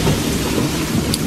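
Heavy rain pours steadily with a low rumble of thunder rolling beneath it, loud and continuous throughout, with no voices.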